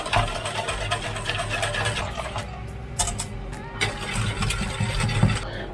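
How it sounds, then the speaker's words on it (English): An electric mixer whirs steadily while mixing a seafood boil sauce, a continuous close motor drone with clattering bowl noise and brief knocks throughout. "with like a mixer, you want to just mix up"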